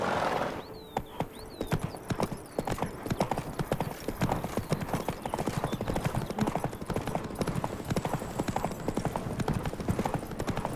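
Horse gallops in the fantasy game The Witcher 3: Blood and Wine, rapid steady hoofbeats pounding throughout, opening with a short neigh, no talking over it.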